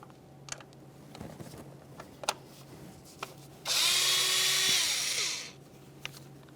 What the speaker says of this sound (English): We'll use a T27 to remove our mounting bolt.